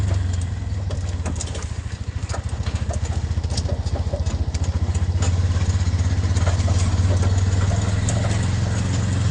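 An auto rickshaw engine runs steadily close by with a throbbing low idle-like chug, holding level throughout as it pulls aside on a road near a hill village, no talk over it.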